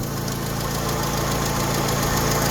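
A Mitsubishi pickup's petrol fuel-injection engine runs steadily close by, a loud, even mechanical rumble with a fast, regular ticking knock throughout and no voices.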